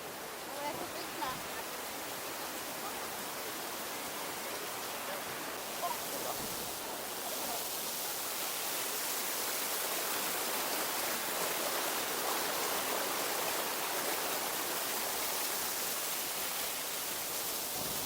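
The largest waterfall at Plitvice Lakes in Croatia, a steady broadband roar of falling water filling the whole stretch at moderate distance, constant and unbroken.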